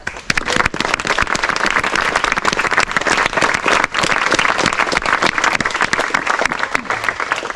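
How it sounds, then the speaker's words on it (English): Applause from a crowd gathered outdoors for parkrun volunteers, dense and steady clapping that runs loud and continuous throughout before the run starts. "if we can get a round of applause just for all of the volunteers"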